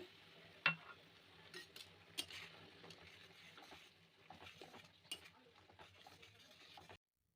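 Round ladle stirring spinach greens mixed with spices and hot water in a pan, giving faint scraping and a few light metallic clinks over a low, soft simmer.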